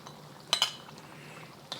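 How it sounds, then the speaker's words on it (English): A metal utensil lifting star anise out of a pan of Beijing fried sauce for zha jiang mian: two quick close clinks against the pan, then a fainter scrape a moment later over quiet kitchen background. "I'm gonna take out the star anise."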